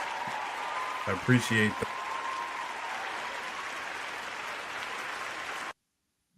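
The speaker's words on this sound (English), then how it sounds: "I'll just a round of applause for Tom joining us." Audience applause for a guest on a union contracts discussion show, a steady soft wash of clapping lasting several seconds under a brief spoken thank-you, then cutting off abruptly.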